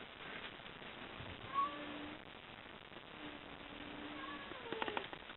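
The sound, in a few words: cats yowling at each other through a window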